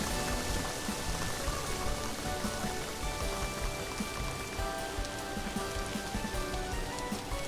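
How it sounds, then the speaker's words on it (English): Steady rain in a video game patters on a surface, a dense continuous hiss of drops with no voices, moderately quiet throughout. "it looks like when it's raining"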